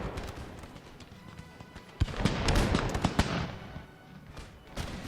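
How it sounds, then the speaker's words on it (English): Scattered musket volleys from Scottish line infantry in the Empire: Total War Battle of Brussels, irregular cracks and pops building into a denser, louder crackle midway, with battlefield rumble beneath. "Scottish units are laying down fire through here"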